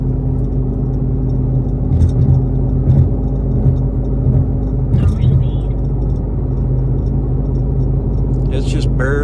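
A Ford Performance differential with 3.55 gears whines faintly and steadily at 70 mph, a constant low tonal drone heard from inside the car beneath continuous road and engine rumble.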